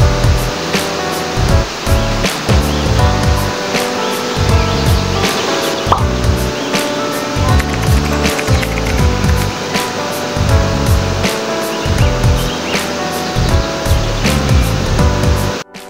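Duruarog Falls in Diadi, Nueva Vizcaya: a loud, continuous rush of falling water close by, with recurring thumps and tonal sounds layered over the steady roar.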